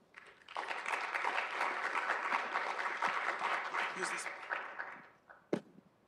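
Conference audience applauding a keynote speaker at a research conference: a sustained wash of many hands clapping, rising quickly, holding steady for about four seconds, then thinning out. A few stray claps and a brief voice follow at the end.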